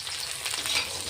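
Onion frying in a pan gives off a brief, steady hiss and sizzle at close range while a dish of flat beans and potatoes is being cooked. No voices are heard.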